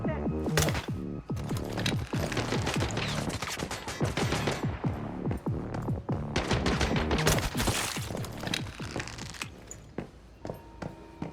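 Gunfire in the video game Once Human crackles in rapid bursts, dense sharp shots repeating loudly for several seconds with brief pauses between volleys.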